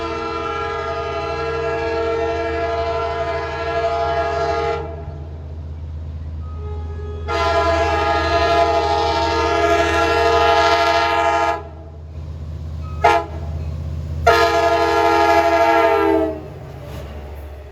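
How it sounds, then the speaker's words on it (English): A passenger train, engine 410, passes on the Long Island Rail Road line near Oakdale and sounds its K5LA horn in three loud, close, sustained chord blasts separated by pauses, over a steady rumble. "He's got engine 410 with another nice K5 LA horn."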